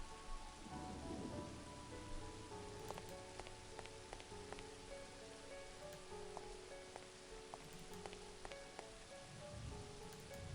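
Steady rain falls in the video game Agatha Christie: And Then There Were None, a faint, constant patter with scattered drips and a low rumble, no voices.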